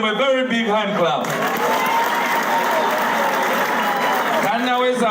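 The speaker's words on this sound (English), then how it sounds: "give Wembo a very big hand clap" Applause from a crowd at a press conference in Makerere Kavule breaks out between stretches of a voice and holds as a steady, dense clatter for about three seconds before fading as the speaking resumes.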